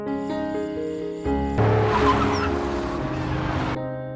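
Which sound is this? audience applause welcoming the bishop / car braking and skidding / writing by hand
car braking and skidding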